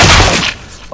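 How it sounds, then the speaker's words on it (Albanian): A flashbang grenade goes off in Counter-Strike: Global Offensive, a loud burst and crackling boom filling the first half-second before fading quickly into near silence. "Throwing flashbang."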